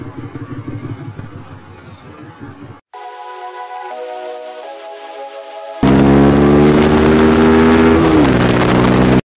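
A Suzuki Hayabusa motorcycle engine, the bike running without its number plate, revs in three distinct bursts, with the final stretch much louder and rising in pitch, all heard without any talk.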